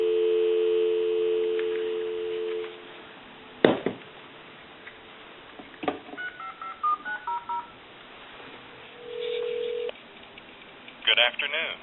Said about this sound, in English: There's your dial tone.